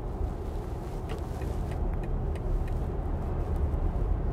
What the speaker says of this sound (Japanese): 周りの走っていく車の音が一番うるさいような気がしますね。